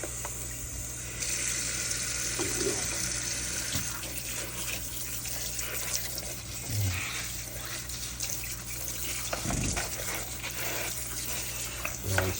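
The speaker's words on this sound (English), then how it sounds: "Turn the cold water on, there we go." Cold water runs steadily from a kitchen tap over raw chicken being rinsed, a continuous close splashing hiss with occasional knocks and bumps.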